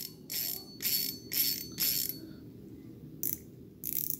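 Several short bursts of bright ratcheting clicks, each lasting under half a second, with brief pauses between them over a low steady hum.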